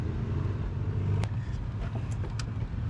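A turbocharged Honda Accord CG6 cruises along a street with a steady, low engine rumble and road noise, quiet and even throughout with a few faint light ticks on top.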